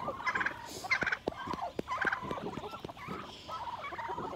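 Backyard fowl make rapid, high, gobbling and squeaky clucking calls in bursts at close range, several birds overlapping with short pauses between outbursts, no voices.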